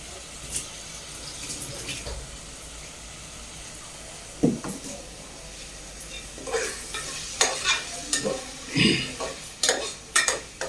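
Onions sautéed in a pan for a tangy tamarind curry with chickpeas and peanuts, a steady sizzle broken by spoon scrapes and stirring clatters that grow busier toward the end, close by with no talk.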